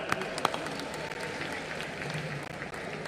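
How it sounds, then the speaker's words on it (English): Audience applause at the closing ceremony of the 53rd IFFI film festival in Goa, a steady wash of many hands clapping in a large hall, moderately loud and even. "Round of applause for them."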